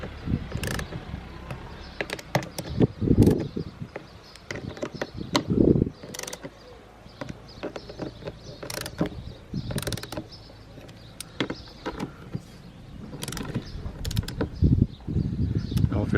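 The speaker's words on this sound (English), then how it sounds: "obviously torquing all this up, hopefully squeeze the seal, and it will be nice and sealed" A torque wrench tightens the fuel tank bolts on an Aprilia Tuono motorcycle, giving close, repeated ratcheting clicks and metallic clacks in irregular bursts, with short pauses between sets.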